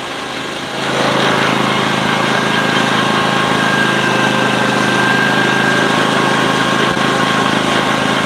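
A Honda GX670 engine runs steadily at close range, a loud, even droning idle with a slight rise in level after the first second and no speech.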